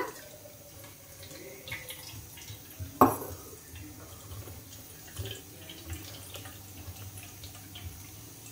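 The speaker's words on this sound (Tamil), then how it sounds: "வடிகட்டியில் வச்சு ஃபில்டர் பண்ணி எடுத்துக்க போகிறேன் நம்மளோட புளி தண்ணியை" Tamarind water trickles and drips steadily through a strainer, with a single sharp clink of metal partway through and faint kitchen background noise.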